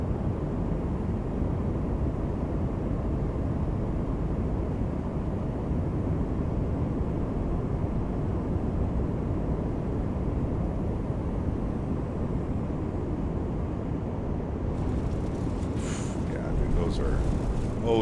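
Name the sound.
Airbus A220 landing in a flight simulator game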